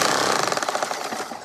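A power drill spins a blade enclosed between two discs, giving a dense, steady, rapidly pulsing mechanical whir that stays loud throughout.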